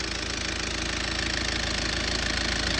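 A 1984 Mazda B2200 diesel engine with 83,000 original miles idles, a steady, close mechanical clatter with an even, rapid knock rhythm throughout.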